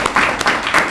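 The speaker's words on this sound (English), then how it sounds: "Let's give them a round of applause." Brief burst of audience clapping for presenters at an ozone kickoff event, a few close, loud swells of hands in under a second.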